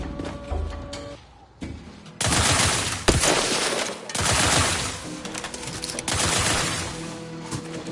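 Sustained automatic gunfire and explosions roar through a firefight in The Outer Worlds 2 video game, a dense, loud barrage that runs for several seconds with only brief lulls, layered with game effects.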